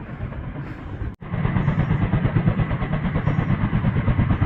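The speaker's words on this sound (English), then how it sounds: "Look at that helicopter." A helicopter flies over mountains in the Sierra Nevada near Mt. Houghton and Relay Peak, its steady, loud rotor chopping pulsing rhythmically after a brief dropout.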